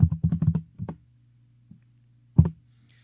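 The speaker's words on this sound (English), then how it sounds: "I'm typing up disputes at the same time of recording this." Quick keystrokes on a computer keyboard, a short flurry of taps, then a pause and a single louder clack, close and alone against a faint steady hum.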